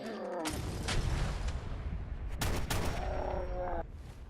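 Gunshots in Fallout 4, two or three sharp, loud cracks spaced a couple of seconds apart amid game noise and clatter, close and unaccompanied by speech.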